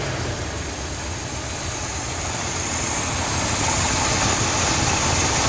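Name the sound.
International Travelall engine running at idle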